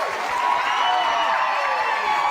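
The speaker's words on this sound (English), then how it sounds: "And the fans are cheering her name here in Grand Rapids." Bowling fans at a professional tournament in Grand Rapids, Michigan cheer in a steady, distant roar that fills the whole moment, with no clear individual voices.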